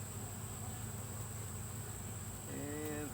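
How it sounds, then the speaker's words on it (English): Honey bees buzz around an opened hive while a beekeeper lifts out frames to add a honey super, a steady dense hum with a brief rising tone near the end. "And watch out, little bees."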